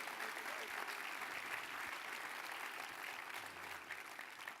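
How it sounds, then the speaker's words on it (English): An audience at a startup competition finals event gives a sustained round of applause, a dense, even wash of clapping that stays fairly soft and distant, tapering slightly near the end. "a round of applause."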